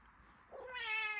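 A cat meows once, a rising then sustained, fairly close call that swells louder toward the end, over quiet background with no talk.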